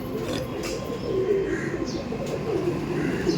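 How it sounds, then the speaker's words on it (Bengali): Pigeons at a loft give soft, low cooing in a steady murmur, close but not loud, with faint chirps and a constant background hum and no speech. "এটা মাদি পায়রা।"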